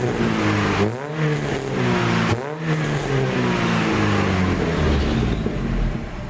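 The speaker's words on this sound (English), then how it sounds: "I'm gonna give it a few revs, let you guys listen to it," An EcoTec-swapped Mazda Miata with a Yonaka Motorsports catback exhaust revs loudly up and down twice, the note climbing and falling back to a steady idle rumble, with no talking.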